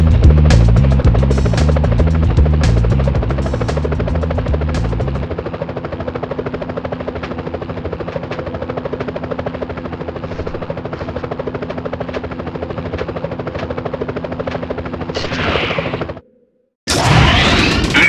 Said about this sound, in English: Whoa, police choppers.